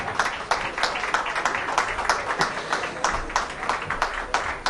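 Audience applause at a French equestrian awards ceremony, the Arqana Graduates trophies, as a prize winner is welcomed: dense, steady clapping from a crowd that holds at an even level throughout.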